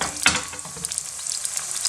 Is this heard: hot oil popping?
yes